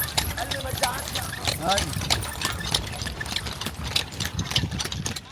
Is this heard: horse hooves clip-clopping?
yes